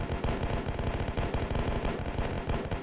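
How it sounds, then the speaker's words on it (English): Cannon fire in the flash base-building survival game Master of Fortresses, heard as a dense, steady barrage of rapid booming pops that carries on without a break, with no talking. "You can see we get a little bit of a nice cannon shot there"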